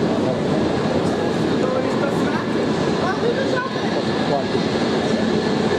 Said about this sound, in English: Duplex train.